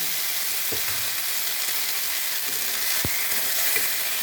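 Potatoes fry with ginger and cumin paste in mustard oil, giving a steady broadband sizzle throughout with a few brief utensil taps and stirring scrapes; no talking.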